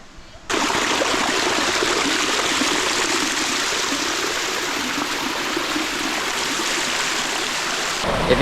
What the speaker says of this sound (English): You've got like 7 different waterfalls, each level is unique